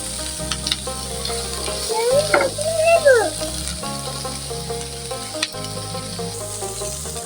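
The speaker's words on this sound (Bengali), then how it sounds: "পেঁয়াজের কলিগুলো ভেজে নিয়েছি" Onion stalks fry for bharta with a constant close sizzle and stirring scrapes, while faint tonal chirps and a low rhythmic hum sit beneath the crackle.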